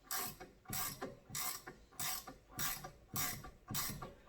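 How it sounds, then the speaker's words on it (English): Rhythmic ratcheting clicks from a hydraulic steering hose fitting being threaded in by hand, repeating in about eight even bursts of metallic clicking, close and moderately quiet, with no voices. "I usually put a little bit of pressure on the top and start threading it in."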